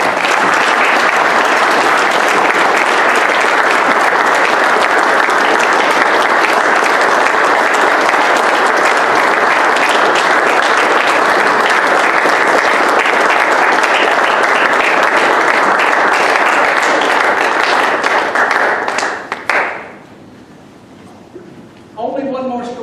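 An awards ceremony audience applauds Todd with loud, sustained clapping that fills the hall for close to twenty seconds, then cuts off sharply, leaving a brief quiet stretch and a few trailing sounds.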